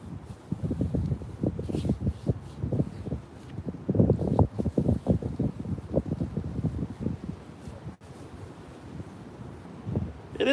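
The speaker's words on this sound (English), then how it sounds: "It is breezy" Breezy wind buffets the microphone on an outdoor walk, with uneven low gusts and rumbling thumps that rise and fall throughout and never settle.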